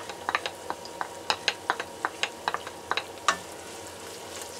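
Onions tossed into hot oil in a pan with crushed garlic give off a soft crackling sizzle, broken by a string of sharp clicks and taps from stirring, all fairly quiet and close.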